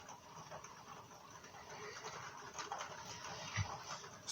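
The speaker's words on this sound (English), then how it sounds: "we're basically just waiting and listening to the rain" Rain patters softly and steadily outdoors, a faint continuous wash of drops with a few slightly louder taps near the end and no voices.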